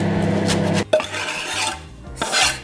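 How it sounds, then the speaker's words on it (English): Chopped coriander scraped off a board into a sweet potato fritter mixture, giving a short rasping scrape, a brief break, then more scraping and rubbing, close and fairly loud, with no voice. "Scrape the coriander in."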